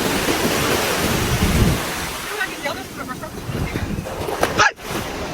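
Big ocean waves crash and wash onto a beach at sunset, a loud continuous roar of surf with swelling breaks, mixed with wind and voices talking nearby.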